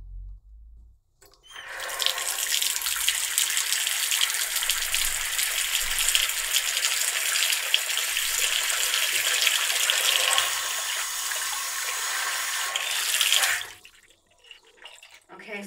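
Hot water tap running steadily into a sink for about twelve seconds, a loud continuous rushing gush that starts and stops abruptly, with no talk over it.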